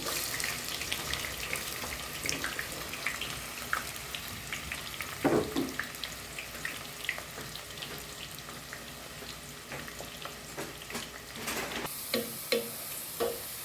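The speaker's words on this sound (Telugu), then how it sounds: "ఇదిగోండి ఆయిల్ హీట్ ఎక్కింది, ఆనియన్స్ వేసేస్తున్నాను." Onions fry in hot oil for a Bengali-style tehri, giving a steady close sizzle with stirring scrapes and occasional clinks for about fourteen seconds.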